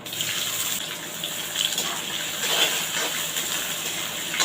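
Long-sliced onions sizzle in hot oil seasoned with cardamom, fennel seeds and star anise while a mint chicken fry is cooked. A steady, close hiss of frying runs throughout, with no talking.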